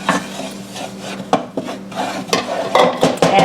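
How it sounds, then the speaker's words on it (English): Confectioner's sugar being stirred into a donut glaze in a home kitchen, a steady scraping and rubbing of a utensil against the bowl with irregular clinks and louder strokes, close and alone. "We'll stir in our 2 cups of confectioner's sugar"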